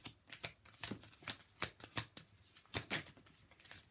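A deck of oracle cards being shuffled by hand, a quick run of crisp riffling flicks and slaps in an irregular rhythm, close and clear with no talk.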